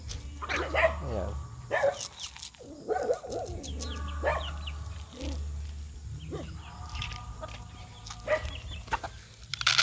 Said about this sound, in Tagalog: Ito na lang yung manok ko.